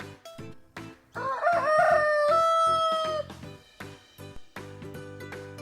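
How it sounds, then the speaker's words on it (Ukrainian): A rooster crows loudly, one long drawn-out cock-a-doodle-doo rising and holding, with brief farmyard noises before and after. "Півень."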